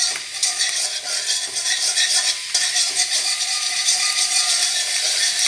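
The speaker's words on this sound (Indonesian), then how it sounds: "Kita masukkan bawang putihnya. Tumis sampai bau harumnya keluar ya." Garlic sautéing in a pan, a loud, dense, steady hiss of frying oil with faint scraping of a utensil underneath, close and continuous.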